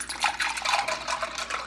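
Short burst of iced coffee pouring, a bubbly, gurgling splash that flows steadily for under two seconds, close by.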